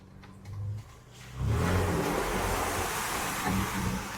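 A vehicle driven slowly through mud beside a glacier river in Alaska idles low, then surges into a loud, rushing roar of churning engine and splashing that holds steady.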